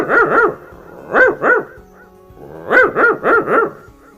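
A person's voice imitates a dog barking, loud and close, in clustered bursts of two to four barks separated by short pauses.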